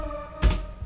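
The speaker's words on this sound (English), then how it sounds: "And you have the leads that sound something like this." A filtered synth lead from an electronic track plays a held tone, then a punchy hit with a low kick lands midway, alone with no talking.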